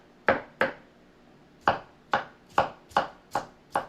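Almonds being chopped for a chicken salad casserole: seven crisp knife strikes on a board, close and alone, two quick ones then a pause, then a faster, fairly even run of five.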